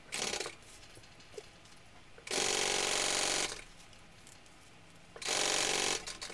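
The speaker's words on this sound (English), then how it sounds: "I'm going to sew the top" A sewing machine stitching the top seam of a small backpack, running in two loud bursts of about a second each, separated by quieter handling sounds.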